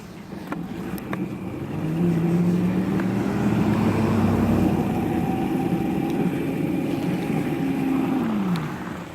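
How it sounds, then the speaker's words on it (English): A big truck passes by on a road in snowy surroundings, its low engine drone rising and swelling over several seconds, then fading away, heard alone without talk. "Here comes big old truck."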